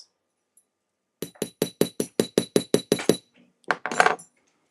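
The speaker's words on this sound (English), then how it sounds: "you can keep hammering that until it doesn't do that" Rapid, evenly spaced metallic taps from a hammer flattening a piece of jewelry metal, about ten sharp strikes in a steady run, close and fairly loud, then a short pause and a brief scraping shuffle.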